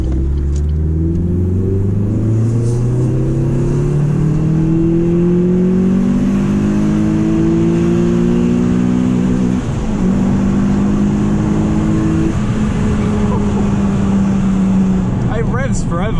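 A Renault Clio 197 engine revs up close and loud, its pitch climbing steadily through long pulls with brief drops between, a sustained rising drone that fills the whole stretch.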